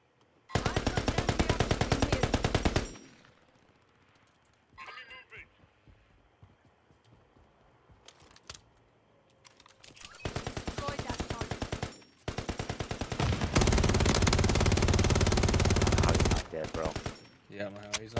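Modern Warfare 3 gunfire in several long automatic bursts separated by quieter gaps, loud and close, with game sounds and voices in the lulls.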